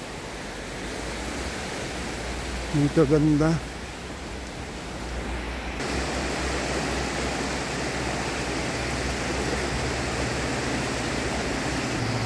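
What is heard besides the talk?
flowing river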